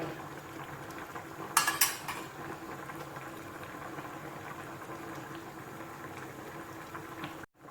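Steady bubbling of a pot of Thai pickled bamboo shoot curry with chicken offal at a rolling boil, with a brief metallic clink of a utensil early on.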